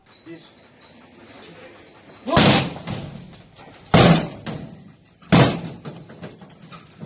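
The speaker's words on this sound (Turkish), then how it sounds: "Zorla zorla zorla kapıyı zorla." Police force a door open during a narcotics raid, producing three heavy, loud slams and thuds spaced a second or two apart. Muffled voices and background noise run between the impacts.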